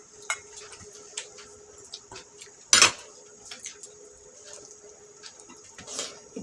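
Food is poured and scraped out of a dish during a Bengali family lunch, with sparse clinks of metal on tableware and one louder clatter midway, quiet room between.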